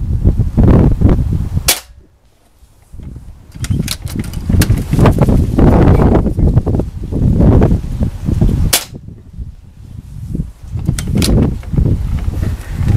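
Two sharp, loud cracks from a Beeman air rifle, several seconds apart, heard up close outdoors over a rustling background.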